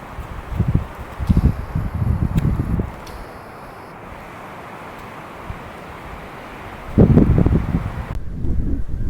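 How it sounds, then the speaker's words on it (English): Broadband wind roars and buffets across the microphone, with gusty low rumbles swelling and fading, loudest near the start and end. "it's been kind of windy last night and then this morning and so far today"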